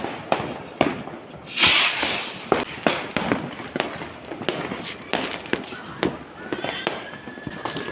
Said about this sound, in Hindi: तो पटाखे फोड़ने आ गए हैं।